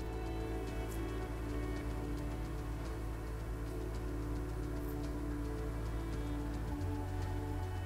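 Rain pours steadily during the rainy season as a dense, even hiss of drops on surfaces, continuous and unchanging throughout, with no voices.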